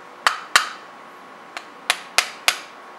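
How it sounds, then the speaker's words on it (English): Light metal taps on a mechanical digital micrometer part, six sharp separate strikes in an uneven rhythm, close and clear with no talking. "Give it a few little taps."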